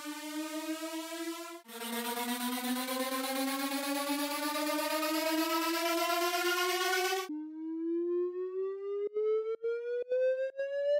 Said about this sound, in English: So I used Serum again for that riser effect.